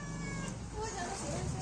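A cat meows up close, a drawn-out cry sounding among puppies, while people talk over it.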